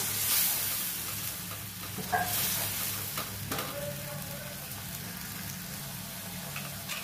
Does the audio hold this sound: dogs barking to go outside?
no